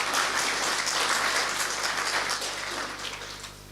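A large audience applauds in a hall, a dense, even wash of many hands clapping at once that holds steady and then tapers slightly toward the end.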